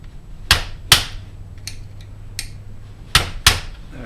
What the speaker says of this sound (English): we'll remove that with a flat tip screwdriver and a mallet